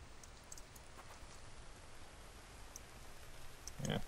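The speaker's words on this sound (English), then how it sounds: "Yep, here comes the rain." Light, steady rain falls in a survival video game, a faint continuous patter with a few scattered drops and clicks and a brief louder thump near the end.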